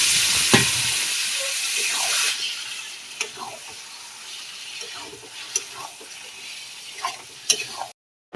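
Chicken pieces go into a pan of cooked-down spice masala with coriander powder and fry, giving a loud hissing sizzle at first that settles into a softer crackle broken by scattered clinks and scrapes of stirring.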